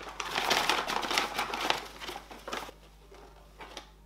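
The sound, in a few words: pet climbing into a Sephora shopping bag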